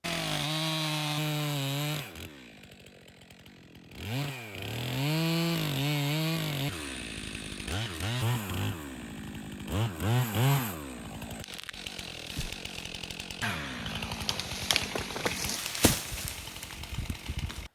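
A chainsaw cuts softwood firewood, revving up and bogging down in repeated rising and falling bursts through several cuts, loud and close, with idle gaps between.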